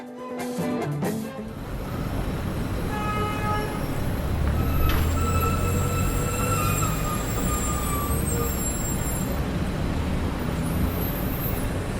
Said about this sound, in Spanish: El sonido estridente de los colectivos a lo lejos